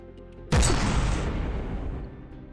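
A gigantic cannon firing in the naval combat game From the Depths, one sudden loud boom after half a second followed by a long rumbling decay.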